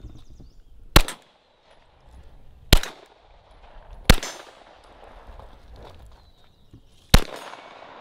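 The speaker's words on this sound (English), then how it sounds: "Wow, that was a good shot." Four sharp, loud gunshots from a Canik TP9 Elite Combat pistol at a shooting range, spaced irregularly with brief ringing decays and quiet gaps between shots.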